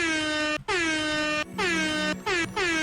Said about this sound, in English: I'm gonna get you a few air horns in here